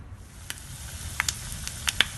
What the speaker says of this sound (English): Heat oil in a pan and add the spices and fry till golden brown.